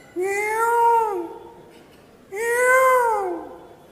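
A human voice imitates a peacock's cry with two drawn-out, wailing meow-like calls separated by a short pause, close and clear.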